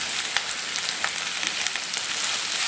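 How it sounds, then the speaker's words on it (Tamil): Onion, green chili and curry leaves sizzle in hot oil for semiya kichadi, a dense close crackling hiss with small pops scattered throughout and no talking. "இப்போ கொஞ்சம் கருவேப்பிலை போட்டுக்கலாம்."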